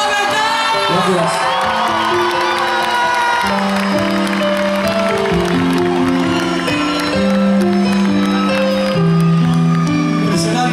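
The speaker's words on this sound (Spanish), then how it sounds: "¡Aplauso y grito para la beca!" An audience at a concert gala against cancer in Ordes applauds, whoops and shouts loudly and continuously, a dense crowd roar mixed with strong tonal voices or music throughout.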